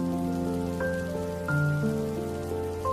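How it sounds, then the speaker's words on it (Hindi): Heavy rain falls steadily over farm fields in a village, a continuous soft hiss beneath sustained musical tones, with no voices. "ये बारिश तो बढ़ती ही जा रही है।"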